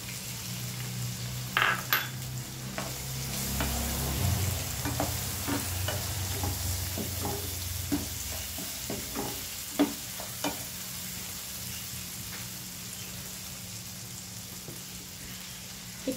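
Chillies frying in hot oil for an instant Assamese chilli pickle, a steady soft sizzle with occasional stirring clicks of a utensil against the pan, close and continuous with no talking.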